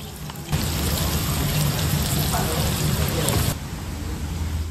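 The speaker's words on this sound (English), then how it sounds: "But today it's raining." Steady rain pours down at a restaurant area in Sakon Nakhon, Thailand, a dense close hiss that swells after the first half second and eases near the end, with a voice speaking over it.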